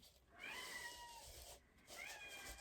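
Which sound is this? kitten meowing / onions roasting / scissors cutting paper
kitten meowing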